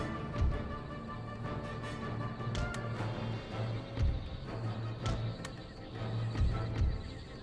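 Cavalry horses neighing and whinnying repeatedly over a busy battle din in Empire: Total War, with several sharp calls rising above the steady background.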